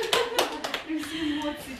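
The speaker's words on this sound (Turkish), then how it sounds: "Lütfen bir kere daha alkışlayalım" An audience claps for a trainer: a few sharp, scattered claps in the first moments, quickly giving way to voices talking.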